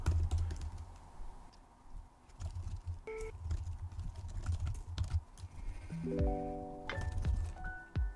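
Keys on a computer keyboard are tapped in scattered, irregular bursts while a job description is typed, close but quiet, with a few tonal beeps and short squeaky notes mixed in.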